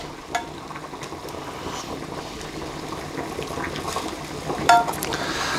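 Margarine sizzles and crackles in a pot on the stove, a steady frying hiss with scattered sharp pops and one louder clatter near the end, no talking.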